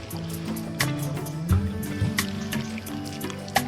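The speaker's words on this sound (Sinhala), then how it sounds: "මේ කන්දෙමයි බං මේ වතුර පාර එනවා ඇත්තේ." Cold mountain water runs down from a hillside near a campsite at Kabaragala, with a close, lively splashing and trickling over rocks and a few sharper drips.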